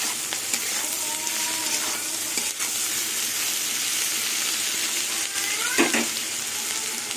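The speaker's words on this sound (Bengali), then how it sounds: "বাটা পেঁয়াজটা দিয়ে কিছুক্ষণ আবার ভাজবো," Ground onion paste fries in a pan, giving a continuous loud sizzle with a few stirring scrapes and brief tonal squeaks, and no one speaking.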